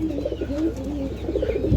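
Caged black-tailed pigeons, including a pair sitting on eggs, coo in a steady, soft, rolling murmur close by.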